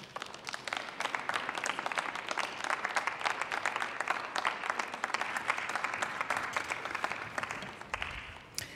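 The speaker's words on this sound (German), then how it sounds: "Applaus" Loud, sustained applause fills the German Bundestag chamber after a speech, dense clapping from many hands holding steady and then tapering off near the end.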